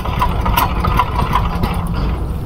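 A 220cc power tiller engine running, a loud, close, continuous rough chugging drone with steady low-end throb, heard alone without talk.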